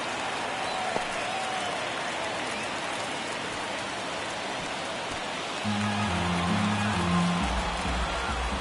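A dense, steady roar from a ballpark crowd in MLB The Show 24, during a Phillies vs Diamondbacks NLCS game, holds throughout; it swells a little near the end as organ-like tones join in over the cheering.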